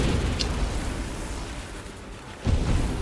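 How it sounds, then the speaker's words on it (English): A screen-wide Nova explosion in a video game sets off a dense, roaring wash of blasts with a sharper boom near the end, loud and continuous with no talk. "Another screen-wide Nova explosion."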